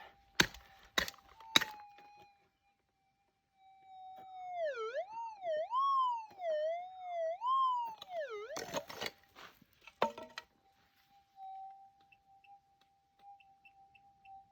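A few sharp knocks, then a metal detector's wavering electronic tone, over a deep target while prospecting for gold nuggets, swoops up and down for several seconds before fading into a quiet, steady hum.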